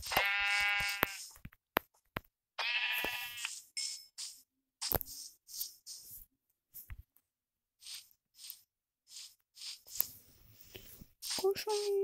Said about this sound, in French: Mouton gris.